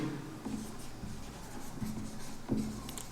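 Chalk or marker strokes scratch across a classroom board during a Hindi-medium English grammar lesson, a few short squeaky bursts near 0.5, 1.8 and 2.5 seconds over a quiet room with no talk.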